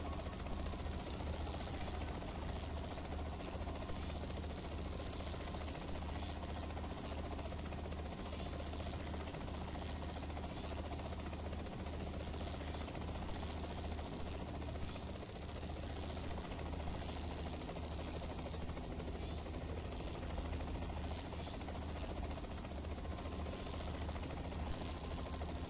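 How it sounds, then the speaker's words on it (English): A helicopter flies in a PC video game, its rotor beating as a steady, rapid, even chop over a constant mechanical hum that stays unchanged for almost half a minute. "I don't like flying in helicopters."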